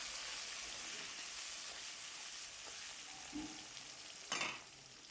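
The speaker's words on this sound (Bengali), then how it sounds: "তো সমস্ত মশলা দিয়ে বেশ কিছুক্ষণ ধরে কষবো, ততক্ষণ না মশলাটা ভাজা ভাজা হয়ে আসছে" A spice paste of green chilli, onion, tomato, garlic, ginger, cumin and coriander sizzles steadily in a pan for a tangra fish curry, with a few scrapes of a stirring spoon and one sharper clatter near the end.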